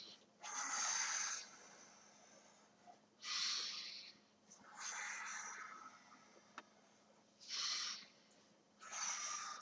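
Five loud, heavy breaths in and out, each lasting about a second, spaced a couple of seconds apart during a judo taiso warm-up breathing exercise, close and without talk.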